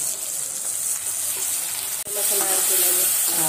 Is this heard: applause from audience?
no